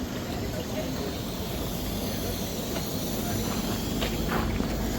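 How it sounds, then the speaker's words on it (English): A ScotRail service, the 12:15 from Aberdeen to Glasgow Queen Street, pulls out of Perth station with a steady rumbling, hissing roar that grows slightly toward the end, while people talk nearby. "Departing out now is the 12:15 ScotRail service from Aberdeen to Glasgow Queen Street."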